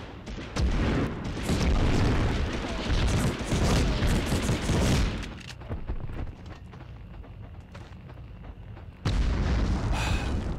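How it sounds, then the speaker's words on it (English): A rocket fired at the player explodes in Medal of Honor on PS1 amid loud booming, crackling bursts of battle noise, then a quieter stretch and a sharp renewed blast near the end. "They just shot a rocket at me"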